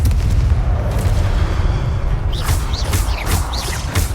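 Confringo spell blasts in Hogwarts Legacy, loud booming explosive impacts with a low rumble and several sharp bursts in quick succession toward the end.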